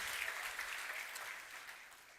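A church congregation applauds steadily during a Sunday worship service, a dense wash of clapping that stays fairly even and gradually thins toward the end, with no voices standing out.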